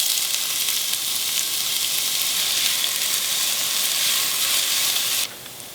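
Diced onions frying in a little oil in a pan, a steady close sizzle throughout that cuts off abruptly near the end.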